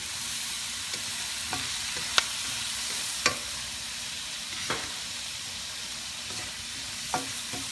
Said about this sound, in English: Let's cook the tomato for 30 seconds